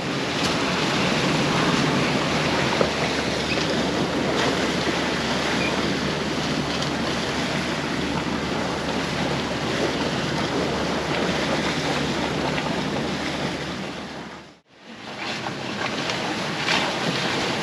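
Waves wash and slap steadily against a sailboat's hull under way at sea in low-pressure weather, with constant wind rumble on the microphone throughout and a brief dropout near the end.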